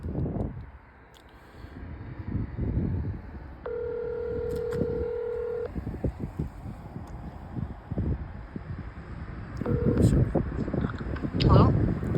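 Touch-tone beeps from a phone on speakerphone come through, with a steady dial-tone-like stretch and short key tones. Wind-like rumble and background noise run underneath.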